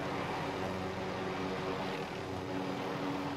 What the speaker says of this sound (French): On marque un hélico